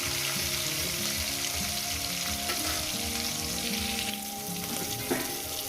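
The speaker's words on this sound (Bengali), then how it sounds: "মাছগুলো আমার ভাজা হয়ে গেছে" Fish pieces frying in hot oil for a spicy fish curry with potato, eggplant and bori, a loud, dense, continuous sizzle heard close up with slight stirring.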